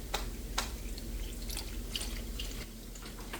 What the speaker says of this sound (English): Add in about 1/2 cup of milk.